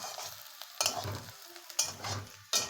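Potato and onion pieces frying for chowmein are stirred in a pan, three distinct bursts of scraping sizzle with quieter gaps between them, close and fairly soft.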